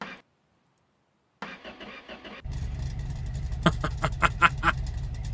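A Ford F-100 truck engine cranks in a few quick stuttering bursts, then catches and settles into a steady, loud idle close by with no talking over it.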